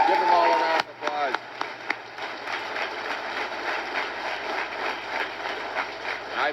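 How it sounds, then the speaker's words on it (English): A crowd applauds at a political rally in Hamilton, with dense, steady clapping filling the clip after a voice trails off at the start. "Give them all a round of applause."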